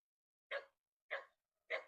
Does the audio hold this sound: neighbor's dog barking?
yes